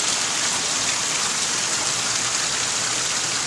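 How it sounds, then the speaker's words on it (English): Heavy rain pours steadily onto a flooded street during a flash flood, a dense, loud, unbroken hiss of water with no pauses. "Unbelievable rain."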